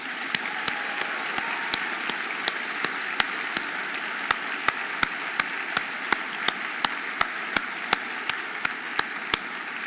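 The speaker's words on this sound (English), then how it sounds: "Please, let's give them a warm round of applause." Applause fills a college of medicine commencement ceremony, a dense steady wash of many hands clapping from a large crowd, with regular sharp ticks cutting through and no voices over it.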